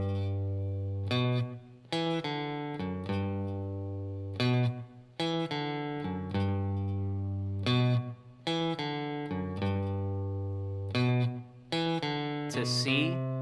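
Electric guitar playing a blues riff in G, with sustained bent notes and chord stabs in a loose rhythmic phrase, clear and close, with no talking.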